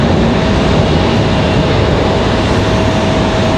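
An American Airlines airliner moving at Raleigh-Durham International Airport, a loud, steady jet roar that fills the whole stretch without a break.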